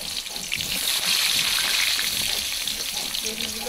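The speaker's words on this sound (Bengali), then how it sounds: "বেগুনগুলো দিয়ে দিচ্ছি" Brinjal (eggplant) pieces fry in hot oil, a short burst of bubbling, watery sizzle that swells and then settles, close and fairly loud.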